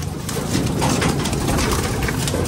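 Blue bar pigeons, dark-coloured racing and show birds, coo and flutter close by in a loft amid steady rustling background noise, with no talking.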